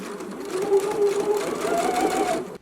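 A sewing machine runs steadily for a couple of seconds, stitching a narrow hem across fabric with a continuous whirring hum, then stops abruptly at the end.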